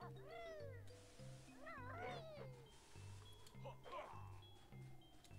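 Cartoonish cat meows from the Banjo-Tooie video game: several bending, yowling calls, some overlapping, over a steady pulsing game-music beat, with a strained caterwaul near the end.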